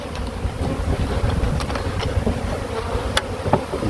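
Honeybees buzz loudly and close during removal of a hive from a drain, a dense, continuous swarm drone with a few sharp crackles and rustles over it.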